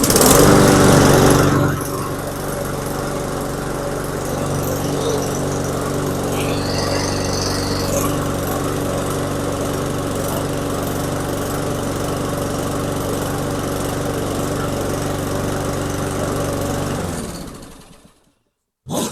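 A lawnmower engine being repaired for resale starts with a burst and settles into a steady, loud close-up running drone for about fifteen seconds before cutting off abruptly.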